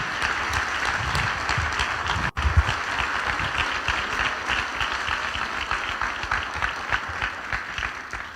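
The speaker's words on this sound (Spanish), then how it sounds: "Dele un aplauso a Dios fuerte." A church congregation claps loudly for God at a worship service, with dense sustained applause from a large crowd throughout and a brief dropout in the middle.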